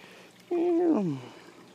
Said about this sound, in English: you just came out meowing